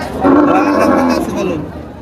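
A single loud, drawn-out cow moo rings out up close at the Tepakhola cattle market in Faridpur, fading toward the end against faint background noise.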